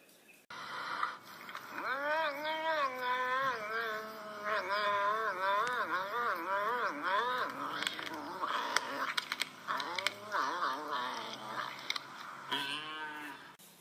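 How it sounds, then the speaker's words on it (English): A series of drawn-out, wavering leopard cat calls, repeated and fairly close, with faint clicking or tapping sounds in the background. "here's how a leopard cat sounds"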